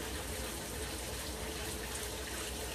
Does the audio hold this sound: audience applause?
no